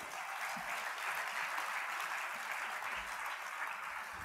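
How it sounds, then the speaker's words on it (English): Keynote audience applauding in a steady, fairly distant wash of clapping, quiet and even throughout with no voices standing out. "Can you give him a round of applause"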